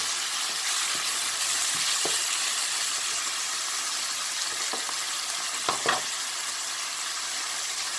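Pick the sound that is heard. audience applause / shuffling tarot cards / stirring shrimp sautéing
stirring shrimp sautéing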